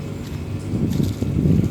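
A grass trimmer engine drives a small water pump outdoors, giving a steady low engine drone with a churning rumble that swells slightly partway through, running continuously with no voices.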